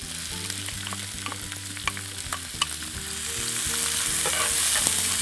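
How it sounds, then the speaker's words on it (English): Onions, green peppers and tomatoes sauté in olive oil in a skillet, giving a steady close sizzle and frying hiss that swells louder toward the end, broken by occasional stirring scrapes and clicks. "Here I've got some chopped up onions, green peppers, and tomatoes, and I'm going to saute those in the oil."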